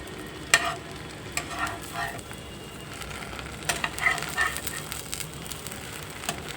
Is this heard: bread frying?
yes